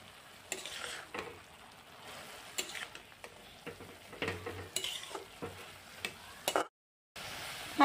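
Data saag greens with garlic leaves and green chilli get stirred in a pan, with intermittent scraping and clinks of a utensil over a soft sizzle, fairly quiet and close, briefly cutting out near the end.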